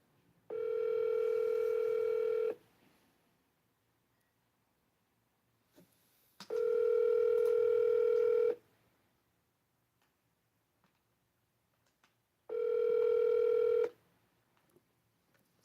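Phone ringback tone on an unanswered call, three long electronic rings about two seconds each, separated by roughly four seconds of near silence, clear and steady.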